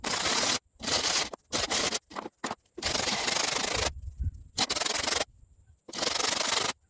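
A calabash gourd turned upside down and rubbed against a flat abrasive surface to level its rim for a berimbau, in loud, gritty rasping strokes separated by short pauses.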